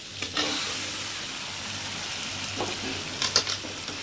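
Quail pieces frying in a pan, with a constant close sizzle broken by a few brief stirring scrapes and clinks.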